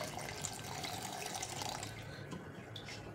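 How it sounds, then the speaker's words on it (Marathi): Water pours in a steady, close stream into ground masala paste for grinding, with a splashy, gurgling texture, tapering off slightly toward the end. "तर ह्यामध्ये आपल्याला पाणी घालायचं आहे"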